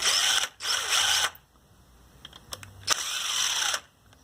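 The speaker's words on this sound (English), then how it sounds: "we'll remove these two Phillips bolts next" Two Phillips bolts backed out of an Echo SRM 2100 string trimmer with a power driver, two close whirring bursts separated by quiet fiddling and faint clicks.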